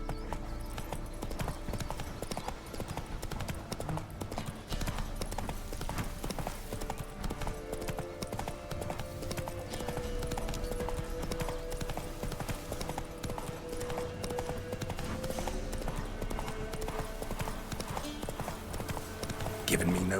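Geralt's horse Roach gallops in The Witcher 3, hooves pounding in a fast, steady rhythm throughout, with game music and a character's voice over the hoofbeats.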